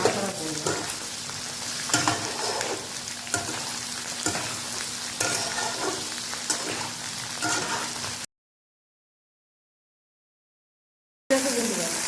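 Ridge gourd, okra and potatoes frying in a pan over high gas, stirred vigorously: continuous close sizzle with rhythmic scraping strokes, then a few seconds of silence before the frying sound briefly returns.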